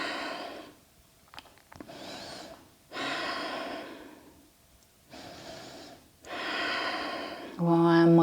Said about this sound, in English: Look up, taking deep breaths here